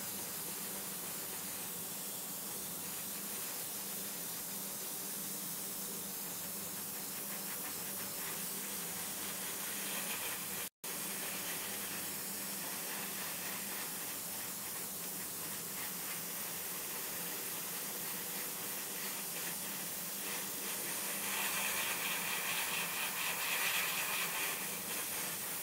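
An airbrush lays a light coat of yellow paint on a custom Xbox case, giving a steady close hiss with one momentary cutout midway.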